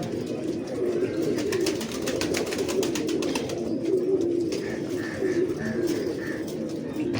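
Pigeons in a breeding loft coo in soft, repeated low calls, with a run of quick rhythmic clicking and fluttering from the birds nearby and a brief burst of higher cooing near the end.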